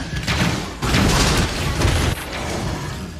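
A loud, rumbling video game explosion fills the clip, with dense booming bursts and crackling debris sounds rolling on for a few seconds.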